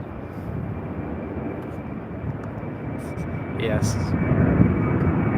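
Airliner in a special Pride livery departing for Brisbane, a steady engine rumble that grows louder toward the end, with brief voices and a single spoken word.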